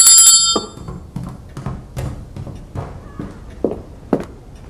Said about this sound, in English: Look, I ring this bell.